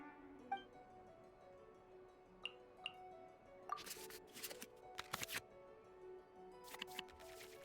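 Cards are shuffled back into the draw pile in the Genshin Impact card game, heard as quiet digital chimes followed by several short, crisp shuffling bursts in quick clusters.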